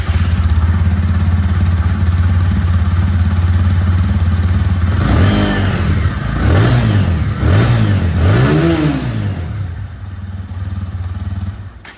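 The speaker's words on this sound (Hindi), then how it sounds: "तो चलिए यहाँ पर न्यू वाली डुअल चैनल एबीएस वाली मॉडल की ही जो एग्जॉस्ट साउंड है वो मैं आप लोगों को यहाँ पर सुना दूँ" A TVS Apache RTR 160 2V dual-channel ABS motorcycle idles steadily up close, then its exhaust barks through three quick throttle blips before settling back to a low idle.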